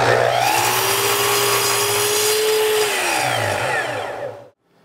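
A power tool runs steadily and loudly for over four seconds while cutting milled wood cross pieces for a towel rack down to rough length, its whine dipping near the end before stopping abruptly.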